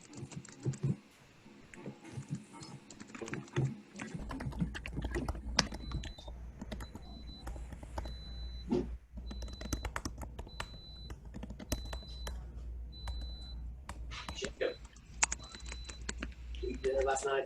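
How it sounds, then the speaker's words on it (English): Steady typing on a computer keyboard runs throughout, a dense patter of key clicks heard close and fairly loud, with people talking over it during a group video call webinar. "I hear typing."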